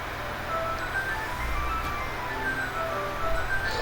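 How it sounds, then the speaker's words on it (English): An electronic clock that rotates every hour plays a tinkling, music-box-like melody, steady and fairly quiet in the background across the whole stretch, with no talking. "If you guys hear the music in the background, that's my clock"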